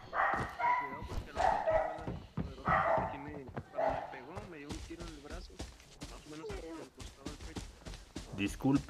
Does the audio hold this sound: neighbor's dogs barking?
yes